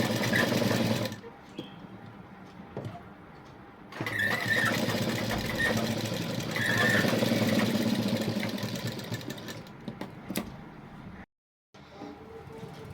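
Sewing machine stitching fabric, a close, steady mechanical whir that runs almost the whole time, with a brief slowdown and then a short stop near the end.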